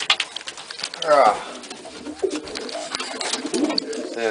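Pigeons in a big breeding loft give soft, repeated throaty coos, close by and overlapping with other light shuffling sounds in the loft.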